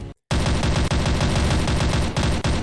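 Rapid automatic fire from projectile weapons in Titanfall 2, loud and close, a dense stream of shots after a brief gap at the start with only a couple of short breaks.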